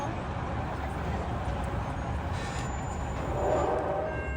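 A General Motors diesel locomotive hauling a Port Jervis line commuter train on the ex-Erie main line in northern Bergen County, New Jersey, rumbles steadily as it approaches, a continuous low drone with a brief tonal whine near the end.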